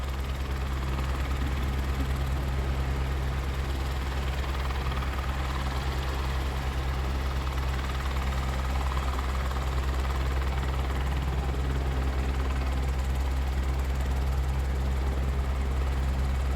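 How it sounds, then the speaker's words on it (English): Helicopter turbine engine running on the ground before takeoff at a trailhead, a loud, steady low-pitched whine and rumble that holds throughout with no voices. "And helicopter went up. Helicopter's off the ground."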